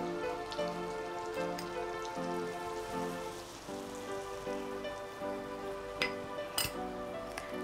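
Two tablespoons of butter melting with flour frying in a pan give a steady fine crackle and bubbling fizz close by, with occasional clinks of utensils against the pan and no talking.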